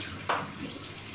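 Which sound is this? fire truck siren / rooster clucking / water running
water running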